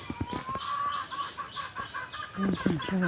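Broiler chickens cluck and call in short bursts against a steady background hum, with a louder run of clucks near the end.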